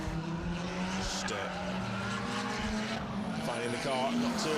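R53 Mini rally car understeering through a hairpin on a stage rally, tyres squealing in a sustained whine over a steady engine drone, with a voice talking over it.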